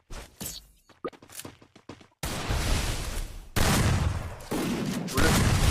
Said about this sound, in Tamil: நான் ஒரு புல்லட் தான் விடுறேன். பட் அது வந்து பாத்தீங்கன்னா டபுள் புல்லட்டா காட்டுது.